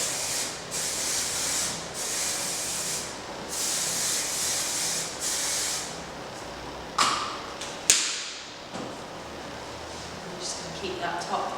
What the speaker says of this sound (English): loads more hairspray just to make it all stay in